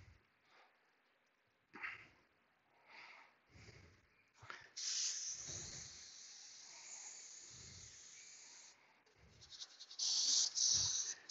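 Brake cleaner sprays onto the brakes of a 2014 BMW i8 during a pad and rotor replacement, with long hissing bursts between quieter handling noises and short clicks.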